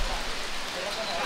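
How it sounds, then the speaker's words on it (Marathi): Heavy rain pouring outdoors at a farmhouse birthday gathering, a steady dense hiss of rainfall with no break. "खूप पाऊस पडतोय"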